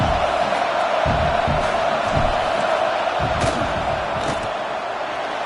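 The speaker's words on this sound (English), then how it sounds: "This crowd trying to do its part to get inside the kicker's head." A football stadium crowd roars continuously and loudly during a college field goal attempt, a dense wash of yelling with sharper shouts and thumps rising through the noise, easing slightly toward the end.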